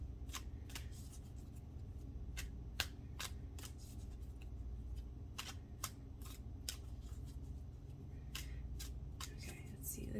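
Cards shuffled by hand at close range, their sharp papery riffles and snaps coming in scattered bursts across a steady low hum of room noise.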